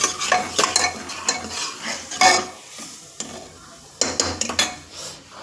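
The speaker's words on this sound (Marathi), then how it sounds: "मसाला मस्त परतून घ्यायचा बघा किती छान मसाला दिसतो बघा तेल सुटेपर्यंत परतून घ्यायचं आहे आपल्याला" Spice masala stirred and fried in oil for a Maharashtrian matki dish: irregular bursts of spatula scraping and clinking against the pot over a soft underlying sizzle, close and fairly loud.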